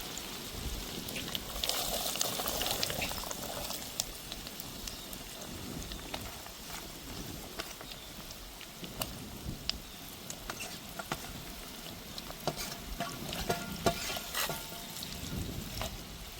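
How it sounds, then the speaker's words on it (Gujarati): Pieces of elephant foot yam (suran) frying in hot oil give a soft, steady sizzle with scattered light crackles and occasional stirring scrapes, close but fairly quiet. "હવે આપણે એમાં નાખી દઈશું સુરણ પહેલાં"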